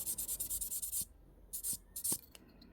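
Quiet, close rubbing strokes of a fine abrasive polishing wire on jewellery parts, a quick run of short rhythmic rubs, then a few separate scrapes after a pause.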